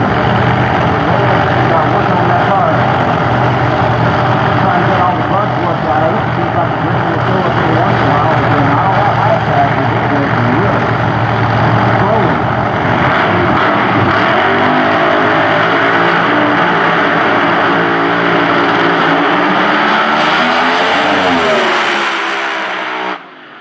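A funny car roars through a drag racing run at Eddyville Raceway Park, a loud sustained engine blast that holds steady for about twenty seconds before rising in pitch near the end, with an announcer talking over it.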